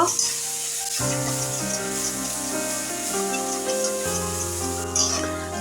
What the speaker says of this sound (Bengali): সবগুলোকে বেশ কিছুক্ষণ সময় ধরে ভালো করে ভেজে নিব